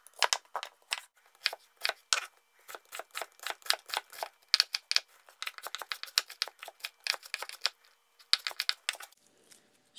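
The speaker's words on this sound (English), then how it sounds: "Dice the onion." An onion is diced with a knife on a cutting board, giving quick, crisp chopping taps in irregular bursts, close and fairly quiet, with no talking.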